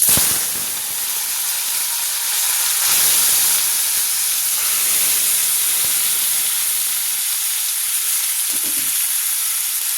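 Pasta drops into hot oil in a wok and fries with a loud, continuous sizzling hiss, swelling briefly around the third second and holding steady with small crackles and stirring sounds.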